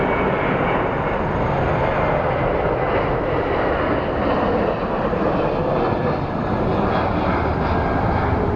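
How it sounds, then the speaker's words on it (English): A Boeing 767 jet takes off at Phoenix Sky Harbor International Airport, giving a loud, steady broadband engine roar that fills the whole clip with no break. "looks like over there we have the Houston Rockets Boeing 767, but so I've already committed to watching this take off."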